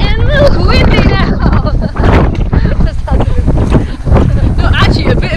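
Gusts of strong wind batter the microphone on a coastal walk between Faversham and Whitstable, a loud continuous roar with surges, while someone talks over it.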